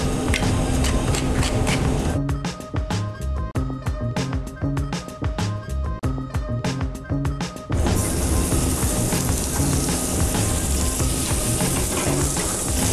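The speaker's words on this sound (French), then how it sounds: "Pendant ce temps-là, on va poêler notre rable de lièvre" Saddle of hare fillets pan-fry in butter with a loud, dense sizzle that eases into rhythmic spattering crackles midway before swelling back to a full roar.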